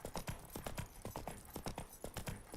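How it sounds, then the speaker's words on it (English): Small horses' hooves clip-clop rapidly and steadily in a game, a dense run of close, bright knocks that overlap with one another, with no talking heard. "Oh my gosh, horse! Guys, look at all the little horses."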